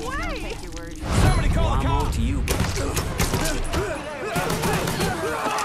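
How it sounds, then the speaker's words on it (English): Rapid gunfire erupts in Mafia III, with dense bursts of shots crackling through the scene as excited voices talk and shout over the shooting. "They's be shooting"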